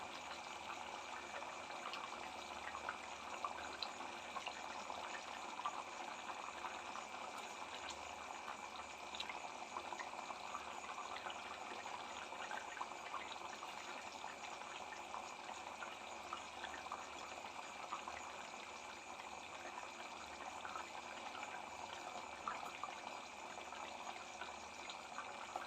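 Egg curry gravy simmers in a pan with boiled egg halves, giving a faint, steady bubbling hiss that runs evenly throughout, alone and without talk.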